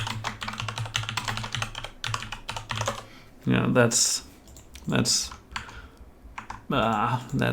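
Rapid clattering keystrokes on a computer keyboard, close and continuous, while someone talks briefly over the typing in a few short bursts.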